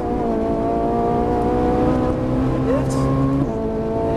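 A Ferrari 458 Italia runs at full throttle on the Auto Club Speedway track, its engine holding a loud steady tone before a quick shift near the end.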